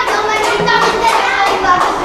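Children in a classroom clap for a group, quick hand claps mixed with chatter and young voices, close and fairly loud.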